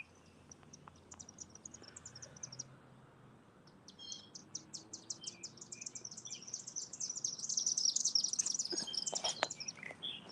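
Birds chirp in rapid, high trills, growing louder and busier toward the end, with faint insect-like buzzing in the background.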